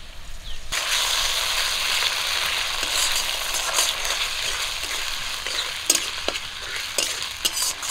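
Onion and green chilli frying with ginger, garlic and cumin paste in a pan, a steady close sizzle with scraping stirs and occasional sharper clicks of a spatula throughout.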